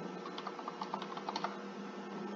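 Quiet, rapid typing on a computer keyboard as Hindi text is entered in Windows 10, a soft run of clustered key clicks over faint background hiss with no talk.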